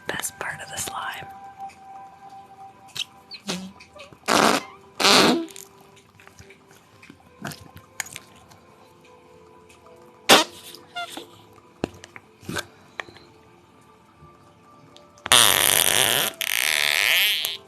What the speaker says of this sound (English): Are we ready for the farts? It's the best part of the slime.